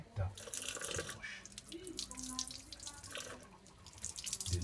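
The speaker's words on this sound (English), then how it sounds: "And then you open back the tap to wash." Tap water runs steadily into a sink during surgical hand washing, a continuous faint splashing stream with a person talking over it.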